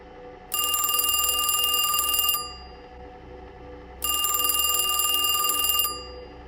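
Two long bursts of an electronic telephone ringing late in the evening, each lasting about two seconds with a pause between, clear and close in a quiet room.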